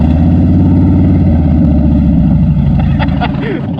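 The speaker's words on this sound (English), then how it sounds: "Diana, shall we teach them what a noisy bike sounds like?" A Harley-Davidson Dyna motorcycle engine roars loudly and continuously at close range with a deep, steady rumble that rises slightly near the end.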